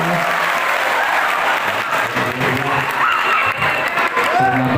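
A large crowd of students at an Islamic boarding school event claps loudly and continuously, a dense roar of hands with excited voices and shouts mixed through it.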